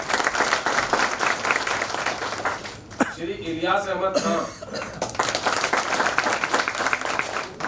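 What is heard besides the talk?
audience applause for elected names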